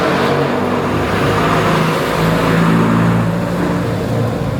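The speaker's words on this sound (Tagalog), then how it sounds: "Maingay yung jeep. Nandito kasi kami sa kalsada." A noisy jeepney passing close on a city street, a loud continuous engine rumble with traffic noise that holds strong for the whole stretch, with no voices.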